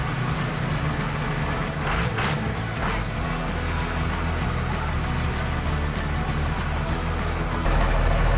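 A Cummins diesel swapped into a Jeep idles steadily in a shop, a loud continuous low rumble with a few brief sharper bursts early on and a slight swell near the end.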